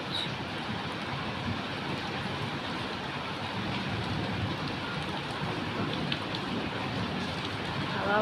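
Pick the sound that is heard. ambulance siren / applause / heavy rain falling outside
heavy rain falling outside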